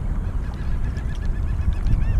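Birds honk and call around a fishing boat on the water during a morning of topwater fishing, their squawks layered over a steady low rumble of wind or motor noise.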